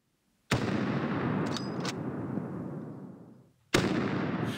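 Two loud rifle shots during a wild boar hunt drive, each a sharp blast followed by a long rolling echo outdoors.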